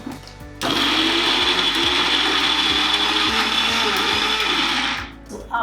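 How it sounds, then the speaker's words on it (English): Food processor grinding a falafel mixture with dhania, jeera, black pepper, garlic and mint, a loud steady whirring motor that starts abruptly, runs about four seconds and winds down. "after the food processor has done all its hard work, take the mixture out"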